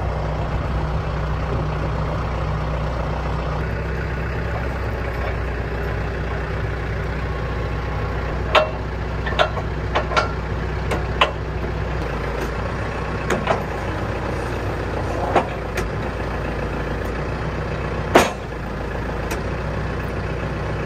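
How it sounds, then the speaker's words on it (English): Tractor with a flail mower hooked up, steady low engine rumble throughout, punctuated by several sharp knocks and clanks from the mower. "So we got the flail mower all hooked up and tested it out"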